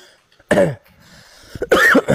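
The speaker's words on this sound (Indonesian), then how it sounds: "saya agak sedikit batuk" A man coughs close to the microphone, two loud harsh bursts separated by a short pause, with faint throat sounds between them.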